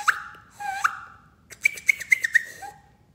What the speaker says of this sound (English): the outward tooth whistle